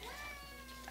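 A house cat meows in a single drawn-out call, close and clear over a quiet indoor room with a low steady hum, late at night.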